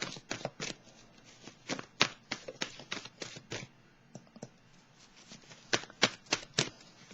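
Tarot cards shuffled by hand in a quick, crisp run of riffling flicks and taps, close and clear, with a short pause midway before the brisk shuffling resumes.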